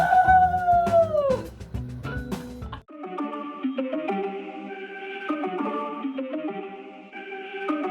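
A dog howls in a long, wavering, falling howl with yips, then a run of stepped musical tones follows, loud and close, with no talk.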